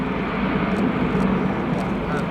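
An RAF Atlas transport aircraft flies a display at the RIAT 2018 airshow, a steady, loud, broad engine roar that holds throughout, with a voice talking faintly over it.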